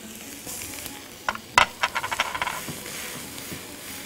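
Minced garlic sizzles in a hot pan beside a few grains of rice, with a steady close hiss and a quick run of sharp crackles and pops in the middle before it settles back to a soft sizzle.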